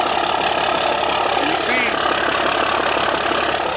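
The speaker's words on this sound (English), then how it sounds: "So this is a cold start. She's just chilling. Exhaust sounds excellent." A diesel engine idles steadily just after a cold start, its exhaust giving a continuous, even, close rumble with faint clatter, while someone speaks briefly over it.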